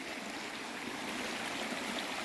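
Creek water runs steadily across a ford on the Corgo Cuia in Urucuia, Minas Gerais, a continuous close rushing wash with no voices.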